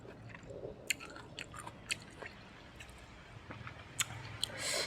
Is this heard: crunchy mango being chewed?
yes